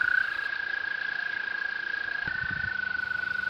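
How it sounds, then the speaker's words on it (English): A steady, high musical trill of toads carries on continuously, with a second trill overlapping briefly; a low thump or two sounds underneath. "long musical trill, and together they form a chorus that continues all night"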